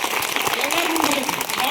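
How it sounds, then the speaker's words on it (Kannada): Audience clapping loudly for a children's dance performance at a Kannada higher primary school in Shiraguppi village, Kagawad taluk. Steady, dense applause fills the short moment, with voices talking over it. "ಎಲ್ಲರ ಪರವಾಗಿ ಅವರಿಗೆ ಜೋರಾಗಿ ಚಪ್ಪಾಳೆ"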